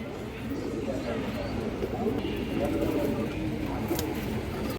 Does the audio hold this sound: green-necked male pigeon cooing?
yes